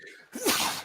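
A single person sneezes once: a brief inward breath followed by a sharp, explosive burst that fades quickly.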